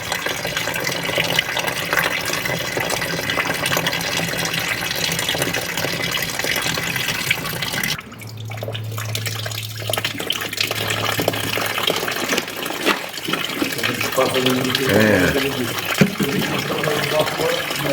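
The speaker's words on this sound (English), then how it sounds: "using more coolant to expel the rest of the antifreeze" Coolant gushes and splashes steadily while flushing dirty old antifreeze out of the engine of a 34-year-old Alfa Romeo 33 that sat unused for 23 years, a continuous watery rush with a low hum joining midway.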